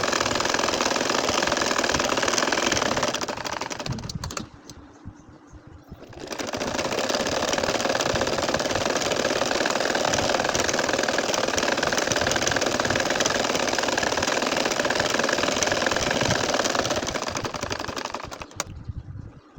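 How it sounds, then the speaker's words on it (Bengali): A domestic sewing machine stitches a baby kantha quilt in gently curving lines, running with a loud, steady whirring hum that briefly slows and quiets midway before resuming at full speed. "আমি এই হালকা ঘুরিয়ে ঘুরিয়ে বাঁকা করে সেলাই করে নিচ্ছি"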